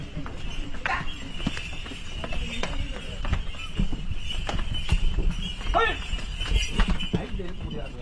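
Bulls' hooves clopping up the stone steps of a temple hill as they carry water for ritual bathing, steady irregular footfalls near and clear, with people talking and ambient crowd noise throughout.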